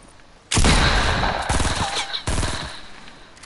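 Rapid bursts of automatic gunfire in the video game Fortnite, loud and close, with two or three sustained volleys in quick succession.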